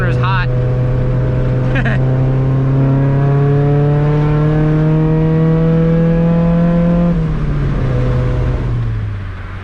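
Loud exhaust note of a modified NA Mazda Miata, driven hard through corners while sliding, holding a steady drone that climbs slowly and drops near the end, with brief voice or shift sounds at the start.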